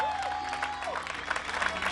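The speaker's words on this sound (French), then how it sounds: "Je veux encore entendre plus d'applaudissements pour eux." Crowd applause at a gospel competition in Kinshasa rolls on steadily with a few cheers, moderately loud in a hall, while a voice talks faintly over it.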